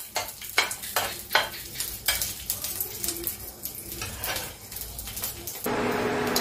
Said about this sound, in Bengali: এর সাইডে আমি একটু কাজু কিশমিশ আর একটু নারকেল ভেজে নিচ্ছি